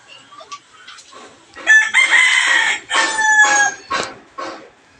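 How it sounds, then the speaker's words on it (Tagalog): A rooster crows loudly and nearby, its drawn-out call rising and falling, with chickens clucking briefly before and after. "maraming manok dito"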